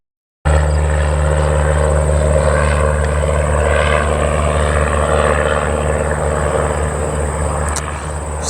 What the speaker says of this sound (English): I love the sounds of airplanes taking off.